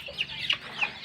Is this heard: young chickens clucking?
yes